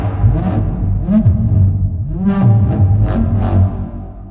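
A detuned Reese neuro bass synth built from square waves and processed through Trash 2 convolution growls with a loud, wobbling low tone, its pitch sliding in repeated swoops under gritty, hissing upper bursts.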